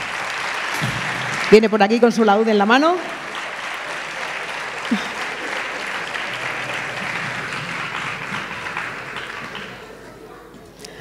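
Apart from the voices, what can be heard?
applause for Juan Pedro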